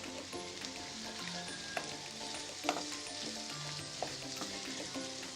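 Tomatoes fry with ginger garlic paste in a pan for paneer butter masala, giving a steady close sizzle and crackle with a few sharp spatters and light stirring scrapes throughout.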